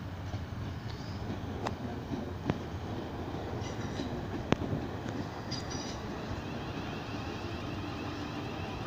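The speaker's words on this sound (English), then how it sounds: "SWR coming in." A four-carriage SWR train pulls into a station, a steady low rumble with faint clicks and occasional brief squeals, heard from the platform at moderate distance.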